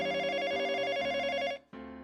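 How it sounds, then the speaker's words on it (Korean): An old-style telephone bell rings in a fast electronic trill as an audiobook sound effect, with a short break near the end before the ringing starts again. "전화벨이 울렸습니다."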